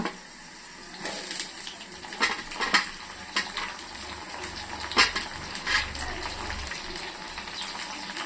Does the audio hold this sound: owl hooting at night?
no